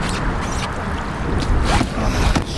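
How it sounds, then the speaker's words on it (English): A strong headwind buffets a paddler in a kayak on open water, making continuous loud rushing gusts with rough splashy swells throughout. "time to take that headwind head on"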